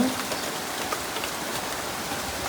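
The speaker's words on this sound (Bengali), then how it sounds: "মানে প্রচুর আকারে বৃষ্টি হচ্ছে" Heavy rain falls in Dhaka after days of intense heat, a steady, even hiss of downpour on surfaces with no breaks and no voices.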